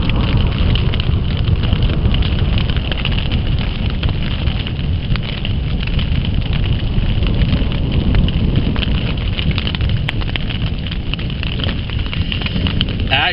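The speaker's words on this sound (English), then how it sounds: "thunder rolls, but it echoes up and down the loch." Heavy rain falls steadily with a deep, continuous rumble of thunder echoing up and down a loch, rolling on without a break.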